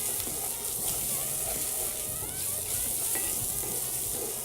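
Garlic sizzles steadily in a hot pan as chili is cooked, a soft continuous frying hiss close by with faint clinks and movement underneath.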